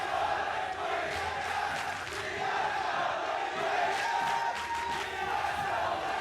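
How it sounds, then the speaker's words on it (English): A large esports arena crowd at a League of Legends match between Team SoloMid and Team Liquid keeps up loud, continuous chanting and shouting that swells and surges in waves, with no voice standing out. "they're smart enough to coordinate chants alternating so they make sure their team gets in there"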